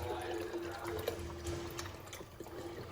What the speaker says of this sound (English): You're adding the chicken broth to the water?